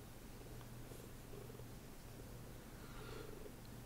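A cat purrs softly and steadily in a cold-weather colony game, a low continuous rumble that stays faint throughout with no talk over it.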